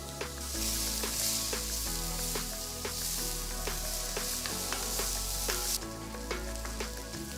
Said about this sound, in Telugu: ఇందులో చిన్నగా తరిగిన రెండు పెద్ద ఉల్లిపాయలు వేసి వేయించాలి